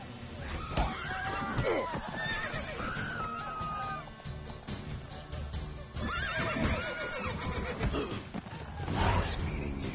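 Horses in The Witcher 3 video game whinny and neigh loudly in repeated bursts over clip-clopping hooves, while character voices and shouting carry on throughout.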